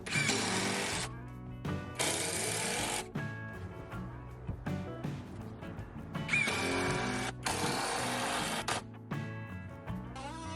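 An oscillating multi-tool (renovator) cuts a notch in the wooden bottom frame of a 6x3 garage shed, a harsh buzzing whine in several loud bursts with brief pauses between cuts, close by and without talking.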